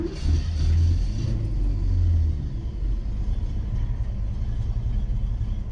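A 1967 Mustang V8 with 50,000 miles fires up and settles into a deep, rumbling idle, loud and close at first, then a steady lower throb that continues alone.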